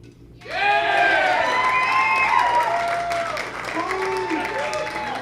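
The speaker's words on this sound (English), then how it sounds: "Just by a round of applause." A live crowd at a comedy show breaks into loud applause with whoops and high cheering shouts, sustained for about five seconds before easing slightly.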